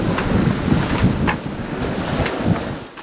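Strong westerly wind at sea while sailing in force 5 conditions with waves up to 3 meters and rain, giving a loud, continuous buffeting roar with repeated slaps and rushes of water against the hull, and no voices.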